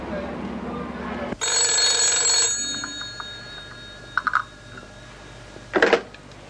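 A telephone rings loudly for about a second in a quiet room during a 1986 Greek TV drama, with fainter ringing bursts following at intervals and no talk.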